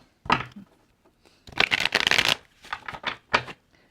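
Tarot cards are shuffled close up in a few quick riffling bursts separated by short pauses, crisp papery flutters with no voices.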